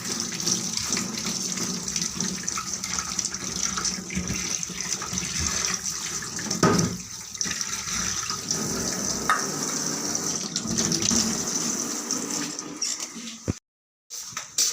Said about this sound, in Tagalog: Hugasan muna natin to.